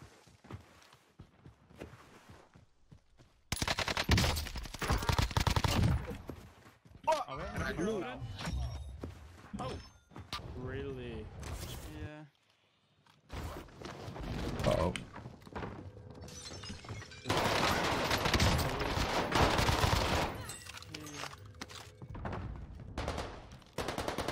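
Bursts of loud gunfire and shattering impacts from the video game Warzone, set on the Caldera map, come and go between quieter gaps while players talk over the action.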